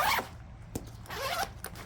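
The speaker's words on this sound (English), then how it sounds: "The sides zipper down." The side zipper of a hunting pack is pulled open in a few quick, close rasping strokes with brief pauses between them, quiet and with no voices.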